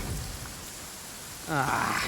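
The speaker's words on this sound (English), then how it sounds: "Uh-oh! Lightning storm!" Stormy weather in the Genshin Impact video game: steady rain hiss throughout, then a loud rumbling roar of thunder swells in halfway through and holds to the end.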